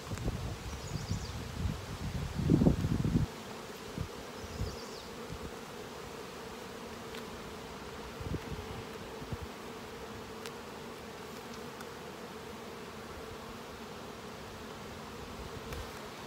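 Honey bees hum around an open hive during a spring inspection of brood and honey frames, a steady close drone throughout with a louder rustling handling burst near the start.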